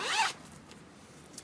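A zipper on a fabric zipper pouch is pulled once in a quick, close, raspy zip, followed by faint handling rustles.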